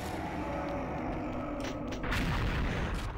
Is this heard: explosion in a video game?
yes